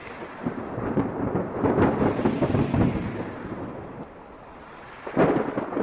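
Heavy rain falls steadily in a forest while low thunder rumbles and rolls throughout, swelling loud before easing and then cracking again near the end.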